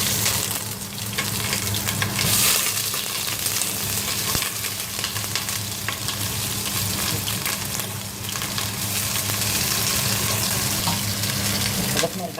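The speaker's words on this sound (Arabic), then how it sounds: "الآن أضفنا زيت، بنضيف البصل" Onions hit hot oil in a pot while cooking Yemeni mandi rice, giving a loud, steady sizzle and crackle with a low hum beneath, continuous and close for the whole stretch.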